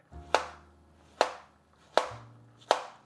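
Four crisp knife chops on a cutting board, evenly spaced about one second apart, as two whole plantains are sliced on a slight diagonal; close and clear, with no talking.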